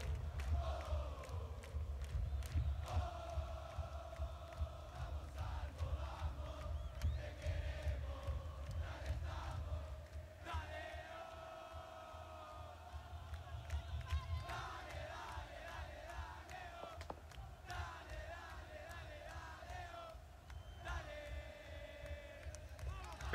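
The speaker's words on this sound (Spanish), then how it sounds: "Muy fuerte los cánticos" Football supporters in the stands at a Colo-Colo versus Universidad de Chile clásico chanting together, a dense, steady roar of massed voices with drum-like thumps running throughout.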